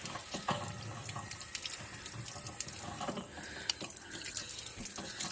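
Water rushing and splashing steadily through a Keystone Arcadia RV hot water heater during a flush meant to loosen rust and calcium buildup, a continuous close hiss with small gurgles and no talking.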